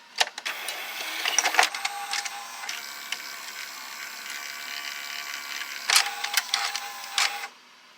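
A Toshiba V-S44C Betamax VCR ejects a tape with close whirring motor noise and clattering, ratcheting mechanical clicks that run for several seconds, then cut off abruptly.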